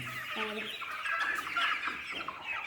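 Chickens and young chicks cluck steadily nearby on a farm, a rooster's lower calls mixed into the soft, continuous farmyard chatter.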